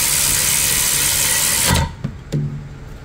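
An electric ratchet driving a bolt during a rear brake pad and rotor job on a Subaru Outback, a loud close whirring buzz that runs steadily, then stops abruptly, followed by two short clicking bursts.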